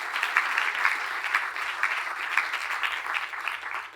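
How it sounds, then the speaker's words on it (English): Warm, sustained audience applause welcomes a lecturer before a talk, moderately loud and even, with individual claps faintly distinguishable in the crowd. "Give him a warm hand of applause, Dr. Michiel Buis."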